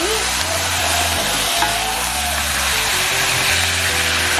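Chicken pieces sauté in a hot pan with a steady, close sizzle and occasional stirring scrapes, a continuous frying hiss holding at an even level throughout.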